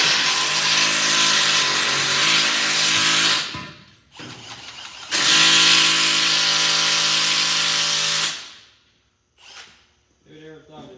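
Power drill running in loud, sustained bursts while fenders are set on a build, with two long whirring runs separated by a short pause, ending in quieter taps and handling noise.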